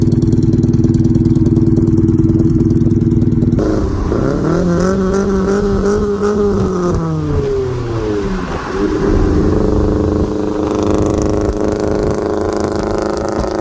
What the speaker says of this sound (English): It was misfiring pretty bad.